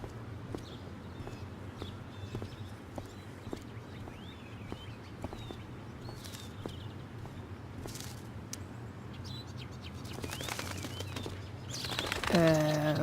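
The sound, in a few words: bird in Life is Strange Before the Storm video game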